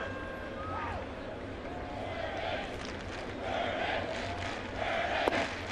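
Baseball crowd at Yankee Stadium during a Red Sox–Yankees night game, a continuous distant murmur and cheer swelling in waves, with a few whistles and shouts rising above and a voice talking over it.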